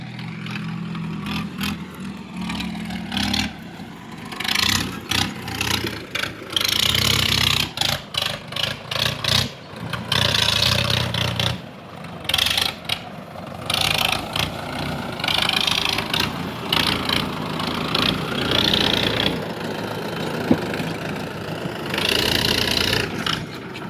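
A tractor engine, tyres reported low on air, idles with a loose mechanical clatter and revs up in repeated surges and drops, close and loud on a rural track.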